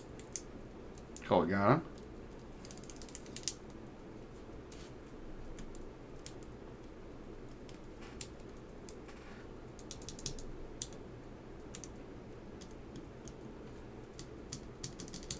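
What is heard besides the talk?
typing on Geon Works F1-40 keyboard while testing keys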